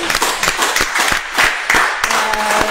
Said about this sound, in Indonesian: kita beri tepuk tangan dulu dong